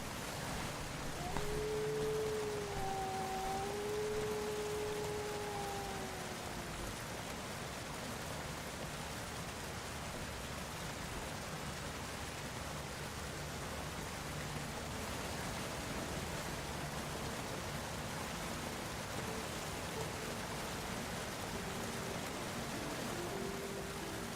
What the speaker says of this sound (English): It is just rain, okay.